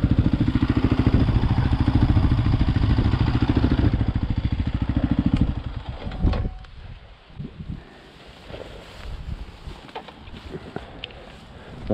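A 2021 Beta RR125 LC 4T motorcycle engine idles with a steady, close, buzzing drone during an air filter test, then cuts off, leaving only faint clatter and handling noises.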